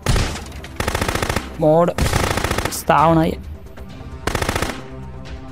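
Automatic AK rifle fire in the video game Contraband Police: several loud, close rapid bursts, with someone speaking between and over them.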